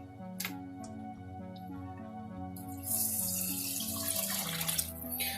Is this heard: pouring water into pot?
yes